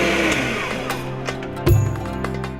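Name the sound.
electric mixer blending milk, eggs and sugar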